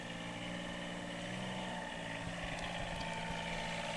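Steady engine drone of a six-wheeled Gator utility vehicle being ridden for fun, a continuous mid-level hum with mechanical whine, no talking.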